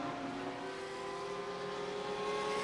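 A Lamborghini GT3 race car engine in a racing video game, a loud steady high-revving drone holding constant throughout with no break.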